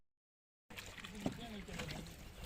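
A manual rowboat moves across Nainital lake in Uttarakhand as rain weather sets in, with soft water sloshing and wind noise close by while people talk quietly on board.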